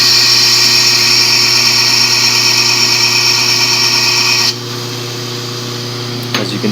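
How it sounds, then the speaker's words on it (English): A new belt sander runs close and loud with a steady, high whine and motor hum, then drops to a lower, quieter drone partway through, with a brief knock near the end. "This is my belt sander. I just got it new, like 2 weeks ago."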